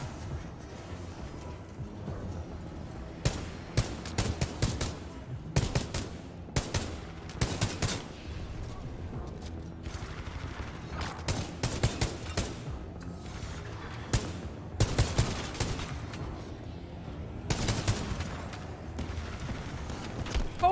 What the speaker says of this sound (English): they keep shooting when they're dying